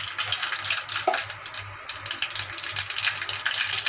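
Mustard seeds fry in a spoonful of hot oil in a flat pot, giving a steady crackling sizzle close by with fine pops throughout and no talk.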